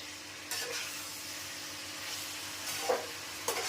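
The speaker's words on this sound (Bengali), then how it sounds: "এবার এটা নাড়া দিয়ে আস্তে আস্তে ভাজা করব" Jhal loti, spicy Bengali taro stolons, sizzle steadily while being stirred and fried in a pan, with a continuous hiss and occasional scraping strokes of the spoon.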